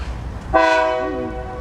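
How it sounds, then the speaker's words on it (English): A large northbound train near Tampa, Florida passes with a loud, sustained horn blast that rises sharply, then holds and slowly fades, over steady low rumble. "There it is. Whoa, that's a big train, huh?"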